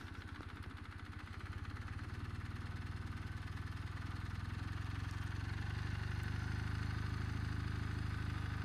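Slow riding on a Kawasaki W800 motorcycle, with the engine putting along at low revs in a steady, even beat that grows gradually louder, the rumble close and unaccompanied by talk.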